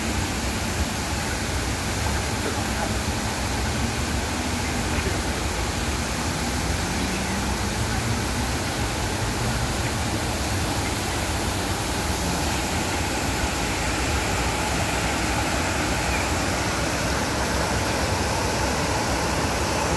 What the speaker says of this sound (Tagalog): Nakikita natin ang napakagandang falls.